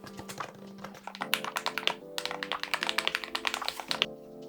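Fast typing on an ASUS ROG Falchion HFX gaming keyboard with magnetic switches, crisp clustered keystrokes in quick bursts, close and clear, with no voices.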